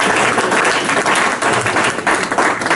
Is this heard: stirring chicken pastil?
no